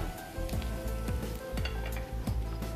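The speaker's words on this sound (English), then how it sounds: "So we'll put our stomach or mackerel into the frying pan." Mackerel frying in a pan, a loud steady sizzle with recurring scraping and clinking of utensils against the pan, close by and without talk.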